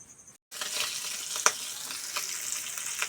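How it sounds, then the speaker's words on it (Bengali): Singi fish frying in hot oil, a bright continuous sizzle that starts after a brief gap, with occasional pops and crackles spiking above the steady hiss. "শিং মাছ হচ্ছে যে ভাজি হচ্ছে, লাল লাল করে ভেজে নেওয়া হচ্ছে।"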